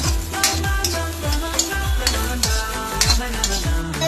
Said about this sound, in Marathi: आता आपण याला व्यवस्थित फ्राय करू आपण आता यात सात मिरच्या हिरव्या मिरच्या ऍड करू